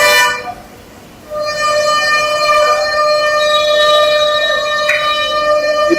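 Near an MTC bus stand on a Tambaram to Tirunindravur route, a long steady harmonic horn blares loudly and continuously for several seconds, layered with other honks and traffic noise, after a brief quieter moment at the start.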